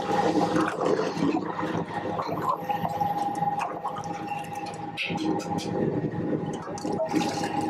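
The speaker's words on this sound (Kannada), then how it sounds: "ನೋಡಿ ಈಗ ಅದರಲ್ಲೇ ಸ್ವಲ್ಪ ನೀರು ಹಾಕ್ಕೊತಾ ಇದ್ದಾರೆ." About two litres of water gush and splash continuously into a cooking pot of mutton curry, a loud, close, bubbling pour with a faint steady hum behind it.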